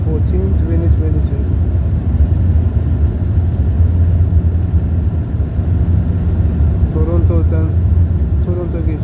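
Porter Airlines airliner descending toward Toronto's Billy Bishop City Airport, heard from the cabin as a steady, loud engine rumble and airflow roar throughout, with faint tonal whine and brief background voices.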